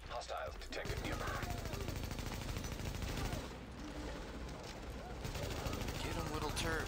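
Sustained automatic fire from an automated turret in The Division, a steady dense rattle of shots running almost without pause through the scene, mixed with other game sounds and some talk.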